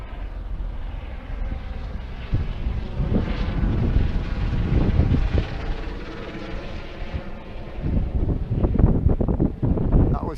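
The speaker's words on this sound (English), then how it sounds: "Helicopter." A helicopter flies overhead above a forest near a lake, its rotor rumble swelling and fading amid heavy wind buffeting on the microphone, with the drone growing louder again toward the end.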